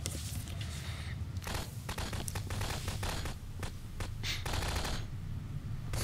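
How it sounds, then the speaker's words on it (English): Rapid gunfire from the video game Prop Hunt, dense bursts of shots crackling steadily over a busy game soundscape throughout. "I don't like all those gunshots."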